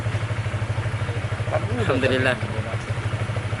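A motorcycle engine running during a test ride, its steady low rhythmic throb continuing throughout while someone briefly speaks over it midway.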